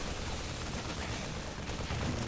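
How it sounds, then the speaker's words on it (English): Baneling explosions in a StarCraft II match, heard as a dense, continuous wash of bursting blasts with no distinct gaps, loud and steady across the whole stretch. "Really nice baneling explosions here."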